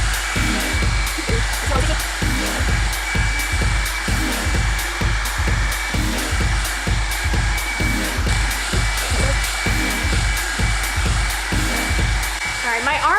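Revlon One-Step Hair Dryer & Volumizer brush blowing on hair, a loud continuous whirring roar with a rapid rhythmic pulsing as the brush moves, close and steady, with no talk.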